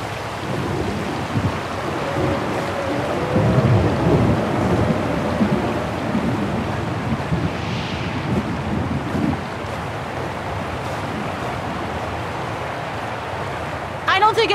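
Steady storm ambience from Syberia: The World Before, with rain and wind forming a continuous wash and low rumbling swells that suggest distant thunder. Brief clattering bursts come through near the start and end.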